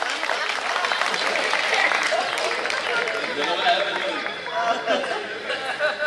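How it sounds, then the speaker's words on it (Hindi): An audience at a Hindi poetry gathering (kavi sammelan) claps, the steady applause mixed with crowd chatter and voices throughout. "तालियां मिलकर के बजाया"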